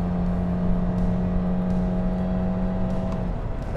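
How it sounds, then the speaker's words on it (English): A Subaru Impreza 2.0i-S engine on a racetrack holds a loud, steady high rev with a constant drone and no talk, then eases off briefly near the end. "All I feel is it revs itself broken and goes nowhere."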